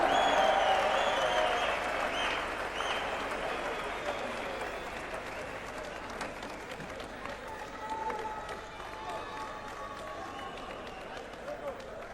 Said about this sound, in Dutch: geef ze nog een hartelijk applaus voor dit geweldige gevecht